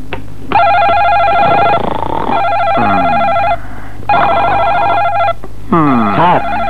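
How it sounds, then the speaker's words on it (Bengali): A telephone in a film scene rings loudly and close, in four long trilling bursts separated by short gaps, with a short electronic warble near the end. "টেলিফোন ধরছে না কেন?"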